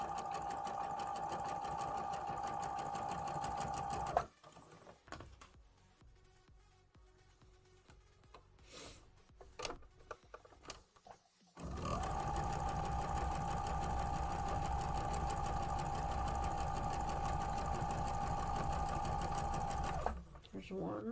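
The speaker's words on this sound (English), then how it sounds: "trying to sew up as much as I can" A domestic sewing machine runs in long continuous stitching bursts, loud and steady, stopping for several seconds in the middle while quiet handling noises and faint talk fill the gap, then resuming at full speed.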